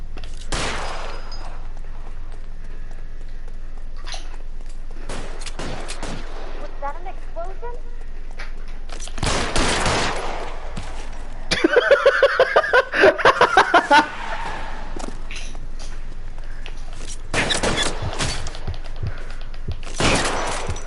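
Gunfire in the video game L.A. Noire, scattered loud shots and a short rapid burst in the middle, mixed with thuds and a player talking and laughing.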